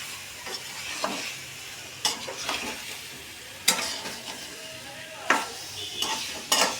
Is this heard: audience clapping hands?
no